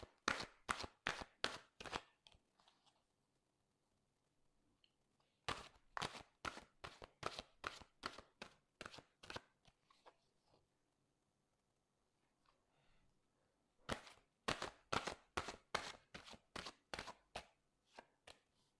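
Oracle cards are shuffled in three quick bursts of crisp riffling slaps, each a rapid series of about ten sharp snaps, separated by quiet pauses in a close, quiet room.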